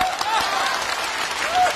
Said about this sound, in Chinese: 先给我鼓掌。